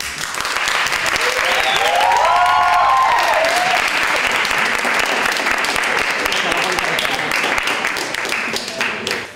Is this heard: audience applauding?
yes